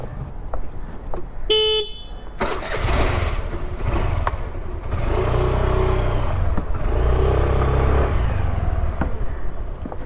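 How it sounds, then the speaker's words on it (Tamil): A Suzuki Access 125 scooter engine runs and revs steadily while riding at night, with a brief horn toot near the start and wind rushing past. "வாங்க இப்போ நம்ம பைக்கை ஓட்டி பார்க்கலாம்"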